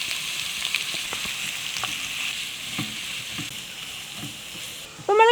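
Thinly sliced big onions frying in hot coconut oil with curry leaves for a green peas curry, a steady soft sizzle with faint stirring clinks, ending in a brief louder scrape.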